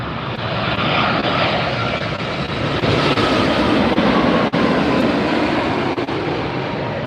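A Hawaiian Airlines jet on Flight 10 passing low overhead at LAX, a loud broad engine roar that holds steady and close for several seconds, with no talking.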